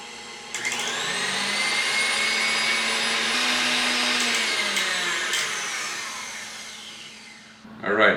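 Electric mixer whipping egg whites for meringue cookies, switching on after a brief pause and running in a loud, steady whine that sags slightly before cutting off, followed by a short clatter.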